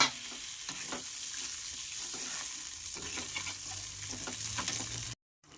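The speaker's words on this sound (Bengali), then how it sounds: "সর্ষেটা ফুটে গেলে বা ভাজা ভাজা হয়ে গেলে এবার আমি দিয়ে দেবো এর ভিতরে সেই গুলিয়ে রাখা তেঁতুলের" Tamarind mixture sizzles in hot mustard oil after the mustard seeds have spluttered, with a steady crackling hiss and occasional stirring taps. It ends abruptly in silence.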